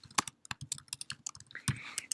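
Fast bursts of clicking keys on a computer keyboard, close and crisp, with irregular rhythm and short pauses between strokes.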